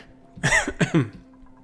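Two quick, loud coughs close to the listener, followed by quiet.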